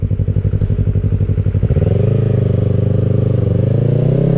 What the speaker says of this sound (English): we've been overtaken by a scooter